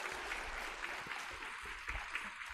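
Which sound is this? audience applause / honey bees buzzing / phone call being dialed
audience applause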